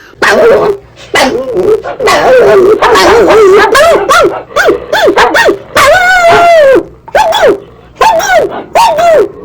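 A dog barks and yips repeatedly up close, loud and urgent, with whimpering, whiny notes between the bursts.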